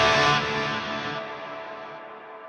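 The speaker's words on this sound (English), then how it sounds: "I'm gonna have that reverb trail just on that right hand side" Guitar played through an FM3 and AM4 dual-amp rig rings out as a single sustained chord with a reverb trail that decays gradually, a spacious wash fading slowly toward quiet.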